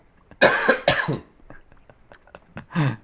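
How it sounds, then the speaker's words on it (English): Several sharp, close coughs from one person who has swallowed down the wrong tube, a burst of two or three harsh hacks followed by smaller throat noises and a final cough, in a quiet indoor room. "I choked on my cough"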